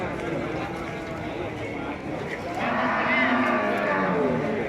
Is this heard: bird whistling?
no